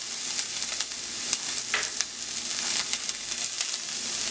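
Chopped white onion and leeks sweating in hot olive oil on medium heat, giving a steady, close hiss of frying with faint crackles throughout and no voices.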